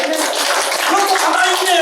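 Steady, dense clapping from a group of people throughout, close and loud, with no pause.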